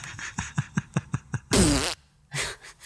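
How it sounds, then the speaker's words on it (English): A series of short rhythmic fart-like puffs, then one loud, long, rasping fart burst, a brief pause and a final shorter blast, all loud and close with no talk. "Fart?"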